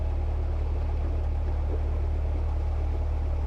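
Narrowboat diesel engine revving hard to push through a tricky bend in shallow water on Savick Brook, a steady low rumble and drone that stays loud and constant throughout, with no voices.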